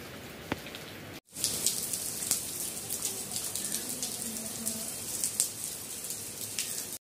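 Heavy rain pouring steadily, a dense even hiss of drops that starts abruptly after a short quieter moment and continues loud and close to the end.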